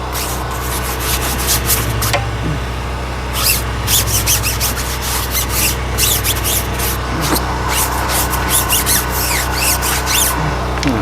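A plastic detailing brush from an exterior detailing kit scrubs back and forth, making loud, close, rhythmic scratchy rubbing strokes in repeated bursts over a low steady hum, with no voices.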